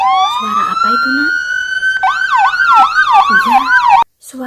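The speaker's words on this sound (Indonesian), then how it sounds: "suara pemadam kebakaran" A loud, close fire engine siren wails on a long rising tone, then switches to a rapid yelping warble before cutting off abruptly.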